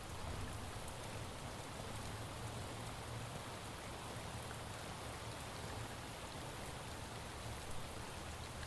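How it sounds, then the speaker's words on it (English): Steady, dense rain from the video game Shadows of Doubt, an even wash of drops pattering on surfaces that holds constant and fairly loud throughout, with no talking. "We are at falling risk because of the rain, which is unfortunate."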